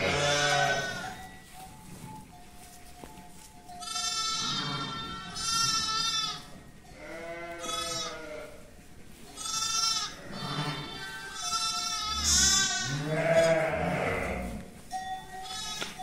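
Sheep and newborn lambs in a pen bleat repeatedly, several overlapping calls of varying pitch rising and fading close by, with short quieter gaps between cries.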